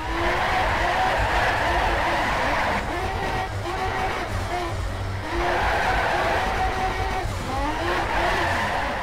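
Tires squeal as a race car oversteers and skids in the driving game Shift 2 Unleashed, a sustained whine that rises and wavers in two long bursts over a constant engine drone.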